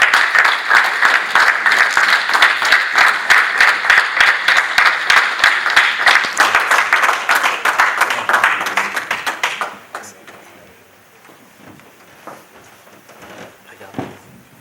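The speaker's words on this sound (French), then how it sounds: "Nous acclamons très fort ma famille" A wedding blessing congregation applauds and claps loudly and steadily for about ten seconds, a dense crowd of hands up close, then it stops abruptly and only scattered noises and a voice remain.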